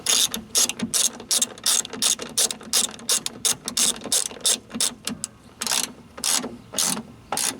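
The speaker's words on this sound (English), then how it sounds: "I can't even turn the ratchet." A ratchet wrench snugging bolts on a Honda Civic driver's door, clicking in quick bursts of rapid pawl ticks separated by short pauses, close and crisp with no voices.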